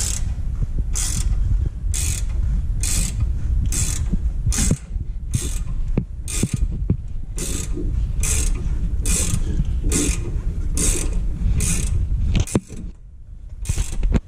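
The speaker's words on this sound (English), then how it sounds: "You can put the speed ratchet 14mm in the tight mode and use it to adjust and tighten the spring." A 14mm speed ratchet clicks rhythmically while tightening a Roadmaster suspension spring on a Ford F-350, a close, loud series of evenly spaced ratcheting bursts over a low mechanical rumble.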